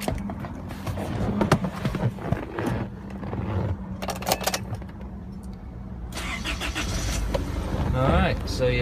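A car engine cranks and fires up, then settles into a steady idle, heard at close range inside the cabin amid some rustling and handling noise.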